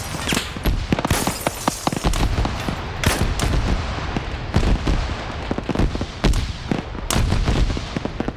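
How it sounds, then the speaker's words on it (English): Automatic grenade launcher fire in a combat video game, a busy run of sharp booming shots and blasts repeating irregularly across the whole stretch, loud and close, with no talking. "More AGS fire."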